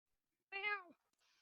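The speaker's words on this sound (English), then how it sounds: "you hear a meow from on top of the roof" A single clear cat meow, close and fairly loud, with a soft rustle just after it.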